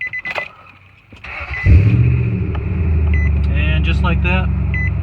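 Car engine cranking briefly and catching on a NEXPOW jump starter, then settling into a steady loud idle, with someone talking before and during the start.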